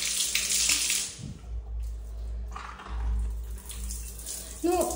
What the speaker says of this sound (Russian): Душевая достаточно просторная. Сейчас потестим, как она работает.